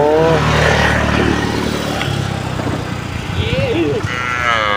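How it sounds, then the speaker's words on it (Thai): A large herd of cattle walks home along a roadside and over a bridge beside a public stream in the evening, lowing several times, with long drawn moos, a distant engine, and faint talk beneath. "ฝูงวัวเดินกินหญ้า เดินกินน้ำ"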